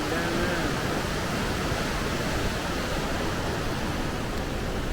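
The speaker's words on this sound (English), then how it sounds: "But as you can see, the water coming through the canyon down" Athabasca Falls roaring through a rocky canyon, a steady, dense rush of water that fills the whole clip without letting up.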